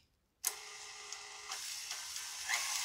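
A KitchenAid mixer starts up abruptly and keeps running steadily, churning cookie dough with an egg in the bowl, a close whirring, scraping hum with faint knocks and no talk.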